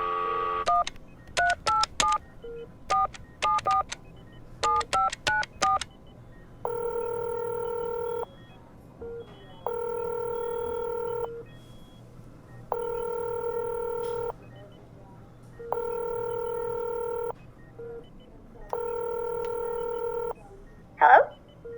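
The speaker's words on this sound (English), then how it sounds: "I think you have to dial 9." A telephone number is tapped out in quick clusters of DTMF keypad tones, followed by five evenly spaced ringback tones on the line, clear and close with a brief voice at the end.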